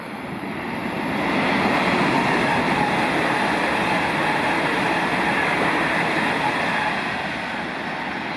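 A GWR train, a unit bound for Hereford, rushes past at close range as a loud, steady roar of wheels and rail noise that swells in and then holds, with no voices.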